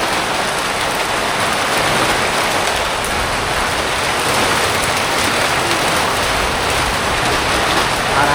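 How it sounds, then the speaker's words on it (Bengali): Heavy monsoon downpour heard from a balcony, a dense, loud, unbroken hiss of rain on surfaces that stays constant throughout, with no voices. "বৃষ্টি পড়তেই আছে।"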